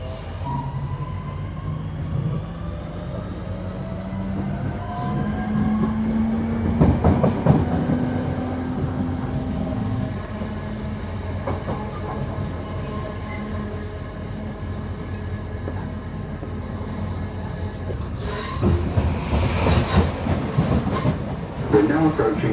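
A Northern passenger train bound for Manchester Airport rumbles steadily along the rails, with a rising tonal hum as it gathers speed and louder clattering bursts near the end, heard from inside the carriage.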